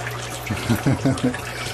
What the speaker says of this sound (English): You see this is dripping right there.